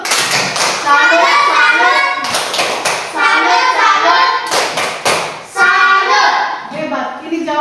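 Children chant in unison and clap in a rhythmic 'tepuk salut' routine, close and loud, with sharp sets of hand claps and thumps breaking through the sung voices.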